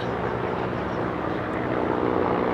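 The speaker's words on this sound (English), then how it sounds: "there's a helicopter up over there" A steady engine drone of a helicopter overhead in Washington, DC, constant and moderately loud throughout with no talking.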